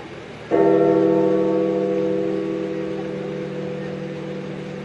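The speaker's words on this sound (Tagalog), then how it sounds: "Ang tunog ng kampana ay hudyat" A single church bell strikes and rings out with a long, steady hum that slowly fades, alone with no talking.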